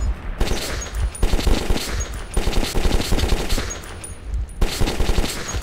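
Automatic gunfire in the shooter game Metro rattles in loud, rapid bursts with brief pauses between them, close and dominant, with no talk over it.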